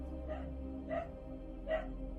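A dog gives three short barks in the background, faint and spaced under a steady low hum.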